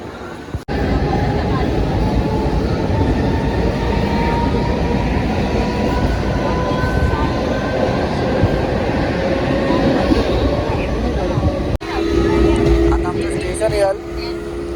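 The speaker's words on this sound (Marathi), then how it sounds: "मग ट्रेन लागलेली आहे वाटतं" A passenger train during a rainy monsoon journey home, a loud continuous rumble and rattle of carriages running the whole time, with a sharp clank near the end and a brief tonal whine afterward.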